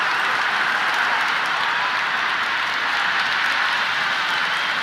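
Stadium crowd in the Cricket 26 video game roars and applauds steadily after a six in a simulated India versus Pakistan T20 World Cup match, a dense, unbroken wash of clapping.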